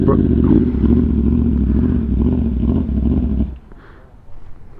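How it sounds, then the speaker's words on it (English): A Yamaha R1 or R6 sport motorcycle engine idles with a loping, uneven rumble, loud and close, then drops away abruptly near the end. "He's literally loping. Like, how does a bike lope?"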